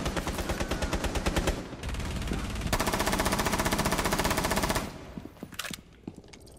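Rapid bursts of automatic gunfire in the video game Rainbow Six rattle loudly and almost continuously, pausing briefly, then giving way to scattered single shots near the end.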